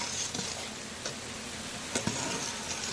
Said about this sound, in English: right now we're just going to be reducing the liquid